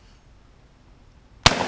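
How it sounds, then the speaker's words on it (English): A single sharp, loud blast of a shotgun firing a custom Mosin Nagant shell at a piece of wood in a backyard, coming abruptly after a quiet lull and ringing out briefly at the end. "We're going to load this into a shotgun and fire it."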